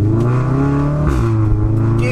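A car engine revs hard to around 4,000 rpm with the window partly down, a loud, steady harmonic drone rising and shifting in pitch, close and continuous throughout.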